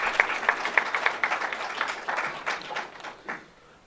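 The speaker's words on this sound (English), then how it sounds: "Would you please give him a round of applause?" Audience applause at a university event announcing a new head football coach at Hampton University, a loose burst of clapping that starts fairly strong, then thins and fades out.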